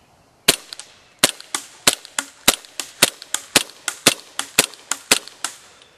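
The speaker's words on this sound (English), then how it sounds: "Now we're going to be shooting CO2 now at the 65 foot as well" Rapid series of about sixteen sharp, loud cracks from an ASG CZ P-09 Duty CO2-powered airsoft pistol fired outdoors at a distant target, shots coming in a steady, quick rhythm with no talking.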